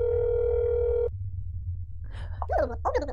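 Steady electronic ringing tone of a telephone call in the horror video game Zoonomaly, holding for about a second before cutting off, then a low hum with speech-like voices entering near the end.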